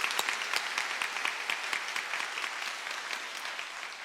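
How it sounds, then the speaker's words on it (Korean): A church congregation at an Easter intergenerational service applauds the young volunteers, steady clapping of many hands throughout that tapers slightly toward the end. "우리 수고하고 헌신한 청년들에게 다시 한번 박수 한번 부탁하겠습니다."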